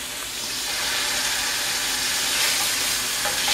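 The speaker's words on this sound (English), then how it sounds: "So we're going to take this, and you're going to hear it sizzling." Beef sears in a hot pan for a meat pie, giving a loud, continuous sizzling hiss that stays even and close throughout, with no voices.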